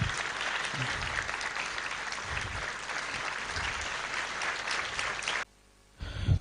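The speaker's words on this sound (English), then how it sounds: "A big round of applause please for all of them." Audience applause at a gathering honoring members of the Awaken India Movement; thick, sustained clapping from a crowd for about five seconds, then a sudden drop to near silence before a brief burst returns.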